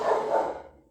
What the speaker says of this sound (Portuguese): meus cachorros estão berrando porque provavelmente está passando o pessoal da limpeza na rua